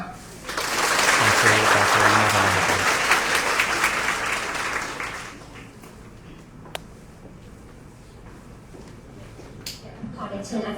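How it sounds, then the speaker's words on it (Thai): Audience applause for a lecturer at a Thai seminar, a loud dense burst of many hands clapping for about five seconds, then dying away as a voice speaks over the quieter room. "ขอเสียงปรบมือให้ท่านอาจารย์เพื่อเป็นการแทนคำขอบคุณ"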